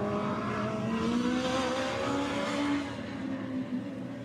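Race cars roar off at the start of a motor race, their engines rising in a steady, loud blend of revving. The sound eases slightly toward the end.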